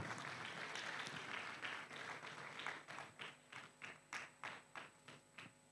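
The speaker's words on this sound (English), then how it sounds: "Let's clap." Audience applause at an award ceremony, a quiet, distant crowd clapping that starts as a dense wash and thins into slower, distinct rhythmic claps that fade out.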